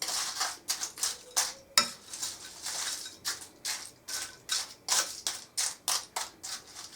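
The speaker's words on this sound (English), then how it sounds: "I'll give that a bit of a mix up, a bit of a stir." Liver, bacon and onions stirred in a pan with a utensil, giving repeated scraping, clattering strokes in a steady rhythm, fairly close and alone.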